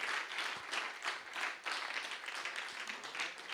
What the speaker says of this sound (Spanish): Démosle un aplauso a Cristo